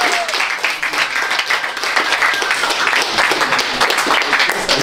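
Audience applause at a live trap-music quiz show, dense clapping and crowd noise filling the whole stretch at a steady, loud level without a clear break.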